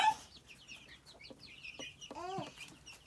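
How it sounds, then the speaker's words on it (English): Baby chickens cluck and peep in short, scattered calls, with one longer warbling cheep near the end, sounding close but soft in a quiet outdoor setting. "Are those baby chickens?"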